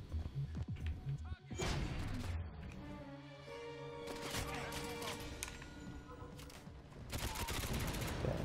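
Rapid bursts of gunfire from the video game GoldenEye 007 Reloaded, set in a St. Petersburg memorial park, crackle continuously and loudly, layered with game effects and a brief voice.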